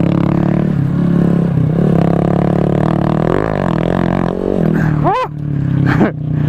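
A Honda Grom motorcycle on a dirt track drones loudly and steadily up close, rising and falling with the throttle, then gives sharp revving bursts near the end.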